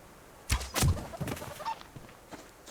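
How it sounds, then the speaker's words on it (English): Chickens squawking and clucking in the survival video game Subsistence, a few loud close bursts early on followed by softer scattered clucks, with no talking. "Right, where did you go, chicken?"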